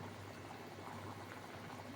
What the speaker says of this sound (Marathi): आता छान अशी उकळी आलेली आहे भाजीला